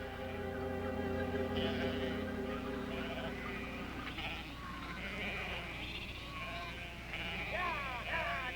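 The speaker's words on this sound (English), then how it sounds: "the sheep were following a daily routine, moving from the grazing pastures to their bedding grounds for the night" Several sheep bleat repeatedly in late afternoon, moving from grazing pastures to bedding grounds, some wavering calls overlapping, against a steady low background hum; moderately close and fairly quiet.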